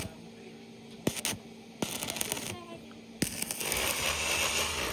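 An arc welder joins pipes at a village house under construction, giving off sharp crackling bursts and a sustained sizzling buzz that build toward the end.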